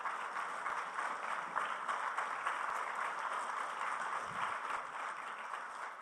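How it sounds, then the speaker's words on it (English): Steady audience applause at a youth meet, a continuous broad wash of many hands clapping together that holds evenly for several seconds at moderate distance, with no speech over it. "Give yourselves a big round of applause."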